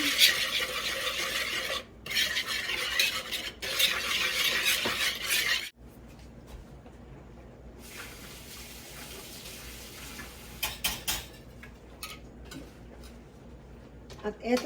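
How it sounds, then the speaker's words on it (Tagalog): A beaten egg mixture for homemade ice cream cheese is stirred in a bowl, giving a run of busy scraping and swishing strokes for several seconds before the sound drops to a quieter, fainter background. "Haluin lang natin"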